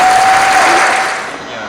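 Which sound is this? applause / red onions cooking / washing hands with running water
applause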